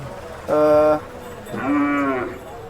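A Khillar cow at the Sangola cattle market moos twice, loud and close: a first low call, then a longer, rising one after a short pause.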